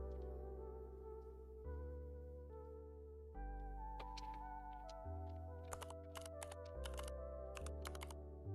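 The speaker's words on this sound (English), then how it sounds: "No, I have an app that gives out keyboard sounds." Keyboard typing sounds played from a sound-effect app, quiet and clicky, with irregular key taps and bursts of rapid strokes over a sustained background tone.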